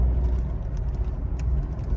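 Petrol Tata Nexon with manual gearbox, in sport drive mode, gives a steady low engine hum and road rumble from inside the cabin, moderately loud and without talk.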